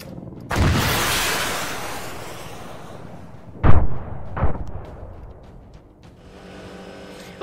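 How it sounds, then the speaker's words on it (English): A close, loud explosion in the military video game Arma: a heavy blast with a long rumbling tail, then two shorter, sharper bangs as the noise dies away. "Ellie just explodes next to us."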